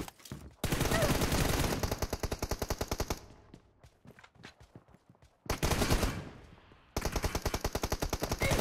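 Rapid automatic gunfire in a first-person shooter game, loud close bursts of evenly spaced shots separated by a short gap with scattered single shots, then two more sustained bursts.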